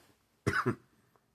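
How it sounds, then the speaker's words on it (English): A single short, sharp cough with two quick bursts, close and alone in a quiet room. "I have a bit of a cough."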